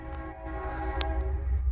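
A passing train sounds its horn in a sustained, loud, close chord-like blast with a brief sharper burst in the middle.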